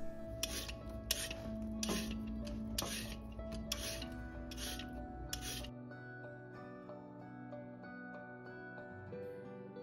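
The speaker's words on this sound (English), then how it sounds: "Trim the carrots by removing the skin with a vegetable peeler" A vegetable peeler scrapes skin off carrots in quick repeated rasping strokes, close and crisp, then stops as a low background hum continues.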